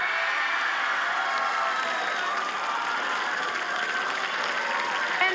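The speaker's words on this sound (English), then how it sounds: "Please give them a big round of applause for all their efforts." Continuous applause from an audience at the grand finals of a national STEM championship, a dense, steady wash of clapping that holds evenly for several seconds.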